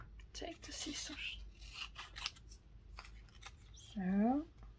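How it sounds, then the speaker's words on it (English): Scissors snipping paper while an envelope with pockets is being made, a few soft close cuts and crisp rustles, with a voice speaking briefly near the end. "Take the scissors."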